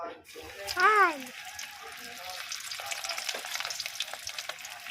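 Chicken pieces fry in hot oil in a pan over a charcoal stove on a rooftop. A brief voice opens the scene, then a lively crackling, spitting sizzle carries on steadily, close by.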